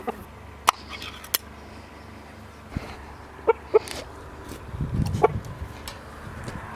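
Young chicks and hens on a farm give a few sharp peeps and soft clucks at close range, scattered over a quiet background, with a low rustle of movement near the end.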